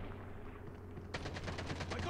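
Call of Duty Mobile gunfire, a quick rapid burst of shots crackling after a stretch of low game ambience, fairly faint overall.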